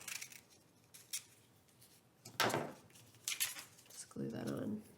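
Scissors snipping paper for a postcard collage, a few faint scattered metallic cuts and rustles spread across the moment, quiet and close with no talking.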